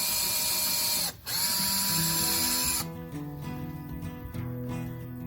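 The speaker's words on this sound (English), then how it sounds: "we're gonna pre-drill some holes so that the screws go in better" Power drill pre-drilling screw holes, a steady whirring tone running for several seconds with a brief pause near the start and shifting pitch as the bit bites.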